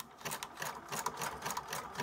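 A sewing machine stitching fabric ruffles gives a quick, steady mechanical chatter of needle strokes, close and moderately loud, with no talking over it.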